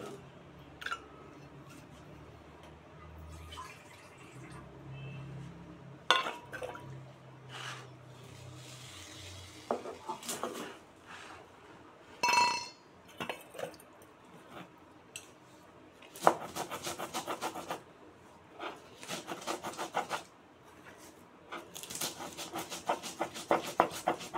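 Poppy seeds and peanuts are ground into a paste by hand. Intermittent scraping and rubbing strokes come in irregular bursts, louder and denser toward the end.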